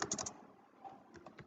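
Typing on a computer keyboard while entering programming code, with a quick burst of keystrokes at the start, a pause, then a few more scattered clicks, fairly quiet and close with no speech.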